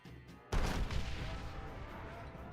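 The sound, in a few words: cannon fire in a video game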